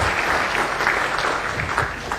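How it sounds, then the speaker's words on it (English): Brief burst of audience applause for the chair, speaker and discussant after an evening discussion on aerial robot swarms, a dense patter of many hands clapping at moderate volume. "may I request you to extend a warm round of applause to our chair, our main speaker, and our discussant"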